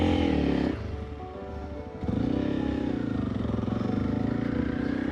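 A Honda CRF300L dual-sport motorcycle is ridden during brake slide practice, its single-cylinder engine droning close by, dropping to a lower idle-like tone for about a second and then picking back up to a steady loud pull.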